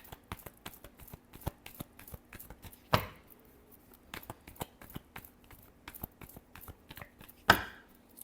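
Tarot cards being shuffled by hand give a steady patter of quiet, rapid taps and flicks, broken by two sharper, louder slaps of the deck.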